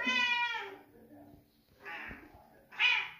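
A cat lets out three loud, drawn-out meows close by, the first long and wavering, separated by short pauses.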